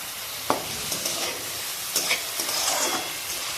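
Onion, tomato and crushed garlic cloves fry in a pan, giving a steady close sizzle broken by a few sharp scraping stirs of a spoon against the pan.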